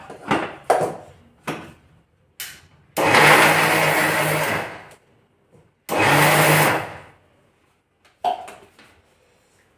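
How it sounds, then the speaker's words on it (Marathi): A kitchen mixer grinder grinding grated jaggery runs in two loud bursts of a few seconds each, with short clatters and knocks of the jar being handled before, between and after them. "आपण गुळ खिसलेला मिक्सरमध्येच काढून घ्यायचा टाकून घ्यायचा"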